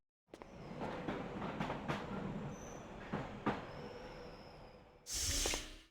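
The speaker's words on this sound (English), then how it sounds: "Another earthquake." Rumbling, clattering rail noise in the Custom Robo video game, a train passing with rhythmic wheel clacks and a squealing tone, steady for several seconds before a sudden louder bright burst at the end.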